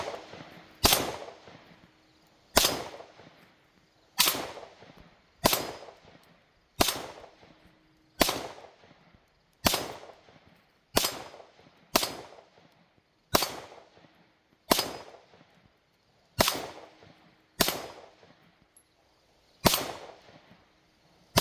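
A Sig Sauer M18 XCompact pistol fires 124 grain NATO rounds at a steel target 15 yards away: around seventeen sharp, evenly spaced single shots, each with a brief ringing tail, in an otherwise quiet outdoor setting.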